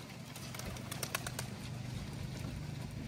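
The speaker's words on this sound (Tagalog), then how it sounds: "So ayan ang first release ng mga ibon natin." Racing pigeons released for a first toss: a brief burst of flapping wings over steady background noise, faint and somewhat distant, with no talk.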